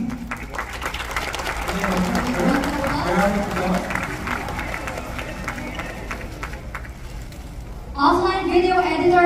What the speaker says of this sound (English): Let's give him a big round of applause, everybody.